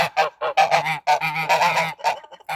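Young domestic geese of a rare breed on a farm honk loudly and repeatedly at close range, a run of harsh overlapping calls with brief gaps between them.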